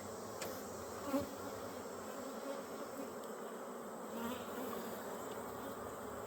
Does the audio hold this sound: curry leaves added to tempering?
no